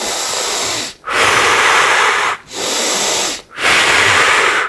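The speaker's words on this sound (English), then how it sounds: "Deep belly breathing." Slow, heavy breaths, loud and close: long rushing inhales and exhales, three or four in a row with short pauses between.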